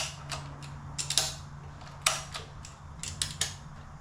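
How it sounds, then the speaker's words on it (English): A VEVOR car tie-down strap is ratcheted tight on a trailer, a series of sharp metallic clicks and ratchet snaps in uneven bursts over a low steady hum, close up. "Give it one more ratchet"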